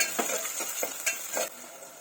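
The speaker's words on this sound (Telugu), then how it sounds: "ఇప్పుడు ఉల్లిగడ్డలు వేసుకుందాం ఇవన్నీ కలిపేసుకుందాం" Onions and cumin seeds stirred in a hot pan for mutton curry: a few separate scraping strokes over a soft, steady sizzle, close and fairly quiet, with no talking.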